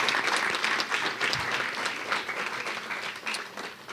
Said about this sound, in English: let's give them a round of applause for all they do for us